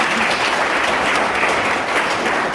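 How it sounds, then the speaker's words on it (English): A dense, loud round of applause from the crowd at a foundation launch event at a school after a minister's address, continuous and full throughout with no voices over it. "Can we again give him a round of applause?"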